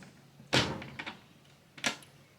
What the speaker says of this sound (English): You just close the door.